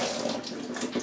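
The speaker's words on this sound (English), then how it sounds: "there it's running the hot water in" Hot water runs steadily into a top-loading washing machine during filling, a continuous rushing hiss of water with no pauses and no voices.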